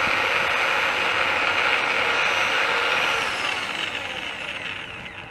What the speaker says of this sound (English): I'm letting the sandpaper do the work,